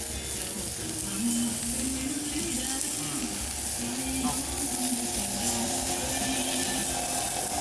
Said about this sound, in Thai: ย่าง ย่างให้สุกก่อนแล้วก็จะเป็นหมูสามชั้นนะครับ